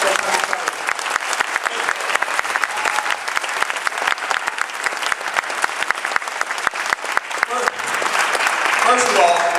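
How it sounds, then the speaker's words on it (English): A Q&A audience breaks into loud, dense applause that carries steadily from start to finish, swelling slightly near the end. "So give a warm applause for him."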